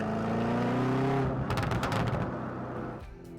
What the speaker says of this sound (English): It just barks on the upshift. It crackles and bangs on the downshift.